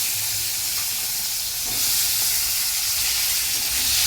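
Nigella seeds sizzle loudly in hot oil, a steady crackling hiss that continues throughout with no talking.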